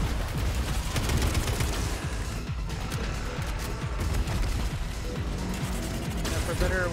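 Rapid gunfire from weapons emptied into an enemy in the video game Atomic Heart, dense and continuous over busy game sounds, with bursts stacking almost without pause.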